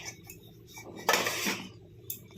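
A metal lid is set onto a pan of pointed gourd cooking in a little oil, giving one bright clanking clatter in the middle of the clip over a low kitchen background, with a smaller clink near the end.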